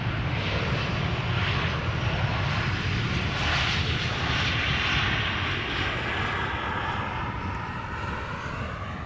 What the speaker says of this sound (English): Singapore Airlines cargo flight 7987, arriving from LAX